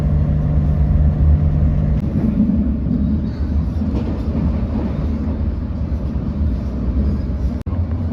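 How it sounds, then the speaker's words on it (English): Steady low rumble and rattle of an electric passenger train running along the tracks between Barcelona and Montserrat, continuous and fairly loud throughout, with a brief sharp clack near the end. "our train is fully electrified and environmentally friendly"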